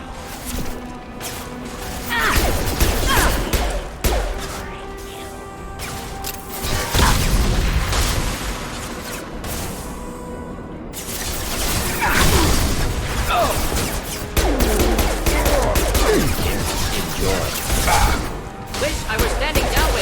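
Gunfire and crate explosions in a Mass Effect 2 combat scene, with loud booms, crashes and thuds recurring throughout over dense game noise and mechanical clatter.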